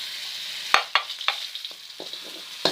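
Seasoning paste is stirred into oil in a hot wok for fried noodles, a steady bright sizzle broken by repeated scraping and clacking strokes of the spatula, close and loud with no voices.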